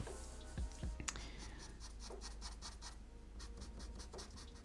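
Pencil sketching lines on paper, drawing stitching seams on a figure's trousers, with soft scratchy strokes in a steady run, close and quiet, a couple of light taps near the start.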